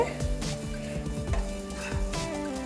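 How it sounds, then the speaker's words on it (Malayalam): Spiced masala for a brinjal pickle sizzles and spits steadily in a hot pan, with occasional scrapes of stirring, close and continuous throughout without speech. "നമ്മുടെ മസാലയൊക്കെ നന്നായി മൂത്ത് വരുന്നുണ്ട്."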